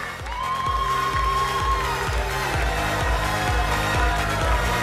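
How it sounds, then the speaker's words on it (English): A pageant audience cheers and applauds loudly and steadily while judges are introduced at a Miss Grand International final in Las Vegas, dense crowd noise with whoops and a sustained tone running through it. "Yes, yes, a round of applause"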